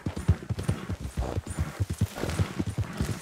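Hooves clip-clop in a quick steady rhythm as a horse moves along in Red Dead Redemption 2, the footfalls distinct and fairly close.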